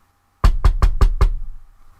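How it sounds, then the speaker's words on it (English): Five sharp, evenly spaced knocks on a wooden door ring out loud and close after a moment of silence, each one thudding with a short decay. "Peter hurried to John Mark's mother's house and knocked on the door."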